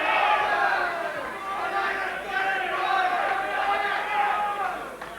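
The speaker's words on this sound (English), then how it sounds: "Certainly the crowd trying to give him all the encouragement." A boxing crowd at an amateur club bout in a hall roars and shouts encouragement in a dense, continuous wash of many voices, loud and sustained throughout with no clear pauses.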